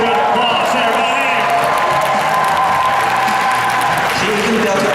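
Audience applause and cheering at a cosplay championship, a loud, dense crowd sound sustained throughout with whoops mixed in.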